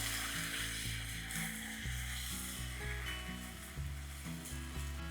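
Beans and potato frying in a pan, a soft continuous sizzle under a loud tonal music bed with stepping low notes, no voices.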